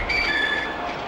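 A tram runs in the Densha De Go train video game around Kyoto, with a steady loud rolling drone and a high squealing tone throughout.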